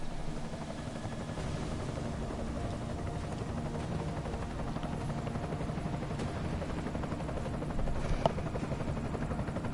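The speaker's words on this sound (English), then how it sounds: "Enemy helo sighted." An enemy helicopter in Deus Ex: Mankind Divided, its rotor thumping as a continuous, dense, loud drone that holds steady throughout with no talk over it.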